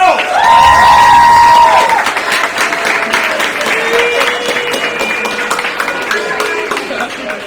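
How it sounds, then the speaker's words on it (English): Loud crowd cheering and applause fill a room at a women's soccer national selection show, a burst of whoops and claps at the start settling into steady clapping and shouts, with voices calling out through it. "I think we need to cheer one more time."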